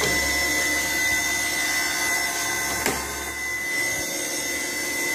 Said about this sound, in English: I wish the pump would quit running.